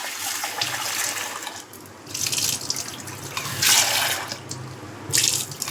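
Tap water runs steadily over chana dal and toor dal as they are rinsed in a kitchen sink, a continuous close splashing rush that swells into louder bursts several times.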